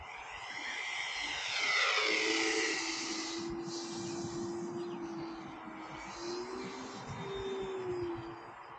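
An E-Flite Cirrus SRT-22T radio-controlled model airplane flies a landing-practice circuit, its electric motor whining steadily overhead with a rising and falling drone as it passes, loud and continuous with light hiss.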